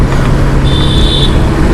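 A motorbike speeding past on a road makes a loud, close roaring rush of engine and wind with a brief high whine, and no one speaks over it.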